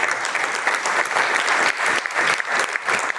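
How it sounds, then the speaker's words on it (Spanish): An audience at an eighth-anniversary celebration for the crypto exchange Binance breaks into loud, continuous clapping that stays dense and even from start to finish. "Un gran aplauso para Binance."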